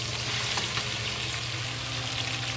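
Yellow squash frying with ginger in a pan, a steady close sizzle of hot oil crackling continuously with a low hum underneath, no voices.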